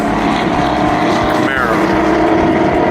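Race cars, including BMW, Camaro and Corvette, pass on the VIR track with a continuous loud engine roar and a rising whine midway, while a voice talks over the noise.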